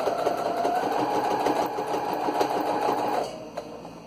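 A sewing machine stitches pleats of a surgical cap in a fast, steady whirring run that stops abruptly near the end, followed by a faint click.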